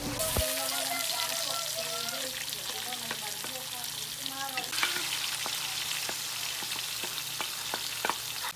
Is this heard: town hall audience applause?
no